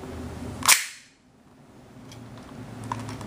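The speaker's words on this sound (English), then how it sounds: "This is actually the button to release the knife." A single sharp snap from the spring-loaded knife release on a soft-plastic Ezio Auditore role-play gauntlet replica, loud and close, followed by near quiet and a few faint handling clicks.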